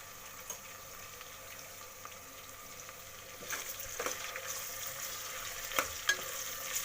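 Ginger garlic paste frying in oil for veg pulao with onions, a soft continuous sizzle with occasional stirring scrapes and small pops, growing a little louder toward the end.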